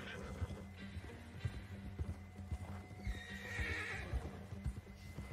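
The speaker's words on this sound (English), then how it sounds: "What I do need is my horse to be a bit quicker." Hooves clip-clop in a quick galloping rhythm from a horse in Red Dead Redemption 2, with whinnies and neighs over continuous game ambience, steady and close throughout.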